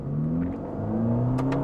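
A Ferrari Roma engine accelerates in race mode, a close, steady rising whir that climbs in pitch through a gear, with a couple of brief bright clicks near the end.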